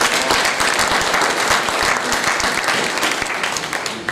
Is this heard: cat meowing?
no